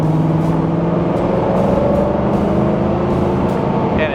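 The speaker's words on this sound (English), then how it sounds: "Great exhaust note coming out." A restored 1957 Chevrolet Corvette convertible's V8 engine and exhaust rumble steadily while driving, close and continuous, with faint ticks and brief clicks above the drone.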